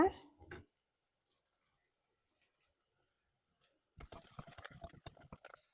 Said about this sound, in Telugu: వాటర్ పోయాలండి నాలుగు గ్లాసుల వాటర్